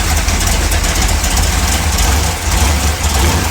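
A 1955 Chevy engine held in a mild brake stand against the torque converter, running slightly rich, gives a loud, steady, close rumble that barely wavers for several seconds.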